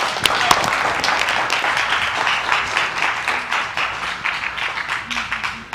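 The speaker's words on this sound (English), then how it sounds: "Give him a hand clap." Audience clapping for a performer named Malachi at a church service, a dense, steady patter of many hands lasting throughout without a break, with some background noise mixed in.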